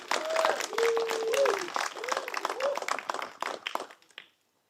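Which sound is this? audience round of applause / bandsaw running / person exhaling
audience round of applause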